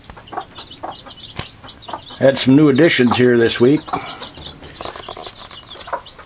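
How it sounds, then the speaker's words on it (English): A hen clucks loudly and repeatedly in a burst, with softer sounds from her roughly 14 newly hatched chicks around it and someone talking briefly before. "Old hen hatched out about 14 of them."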